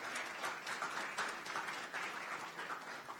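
Fairly faint applause from a church audience during a sermon series, steady dense clapping throughout at some distance.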